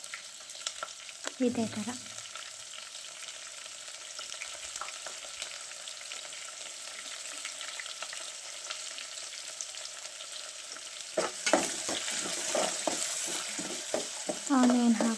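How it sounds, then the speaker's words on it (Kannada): Chopped onion frying in a pan for uppittu, a soft steady sizzle that grows livelier toward the end with stirring clatter, faint, with a few brief spoken words. "ಆನಿಯನ್ ಹಾಕ್ಬಿಟ್ಟು ಫ್ರೈ ಮಾಡಿ"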